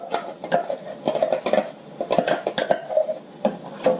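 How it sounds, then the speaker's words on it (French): Sauce for a coconut courgette korma being poured back into a metal cooking pot, with close clinks and scrapes of utensil against pan in an irregular clatter and no voices. "je verse ma sauce de nouveau dans la gamelle où j'avais déjà cuit la sauce"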